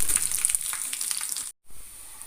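Hot coconut oil tempering of onion and curry leaves poured into a Kerala fish curry, producing a steady close hiss and crackle that continues, drops briefly to silence, then resumes more quietly.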